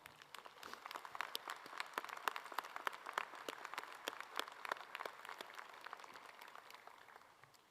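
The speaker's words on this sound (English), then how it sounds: "Please join me in acknowledging and thanking them with a round of applause." Faint, distant applause from a law school graduation ceremony audience honoring families, a scattered, steady patter of many hands clapping that tapers toward the end.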